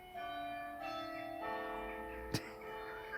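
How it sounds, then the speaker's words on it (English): Church bells ring in a graveyard, sustained overlapping metallic tones that layer and decay, with a sharp knock partway through. "Stop ringing those bleeding bells."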